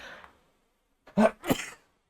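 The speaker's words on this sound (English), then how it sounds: "I need to sneeze again." A quick nasal sneeze: a sharp two-part burst after a soft breath, close to the microphone, then silence.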